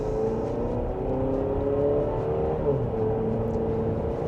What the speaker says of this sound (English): It does seem to rev out a good bit in sport mode